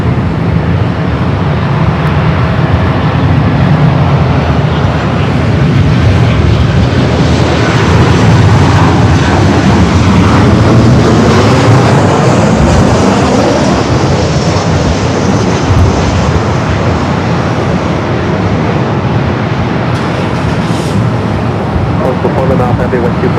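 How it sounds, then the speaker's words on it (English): Heavy Boeing 777 airliner landing at LAX, a loud continuous jet roar that swells and slowly fades, with radio voices talking over it. "you're following a heavy 777, caution wake everyone"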